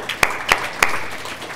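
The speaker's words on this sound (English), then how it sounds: "Awesome, we're already clapping." Audience applause at a library technology conference, a short burst of clapping from a room full of people with a few sharper claps standing out.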